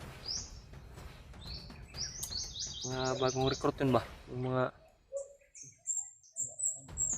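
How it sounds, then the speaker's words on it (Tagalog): A bird gives repeated high chirping calls in short bursts while people talk nearby, then a few fainter calls ring out after the voices pause. "may ibon na naman na yung palaging maririnig namin"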